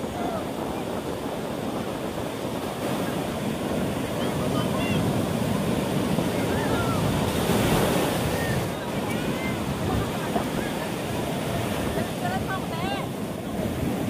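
Strong surf rolls onto a sea beach in a constant loud roar, with wind buffeting the microphone and faint voices in the background.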